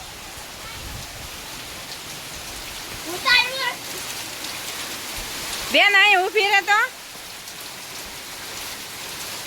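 Heavy rain pours steadily on a farm in a windy monsoon downpour, a dense continuous hiss throughout, with brief voices speaking over it midway.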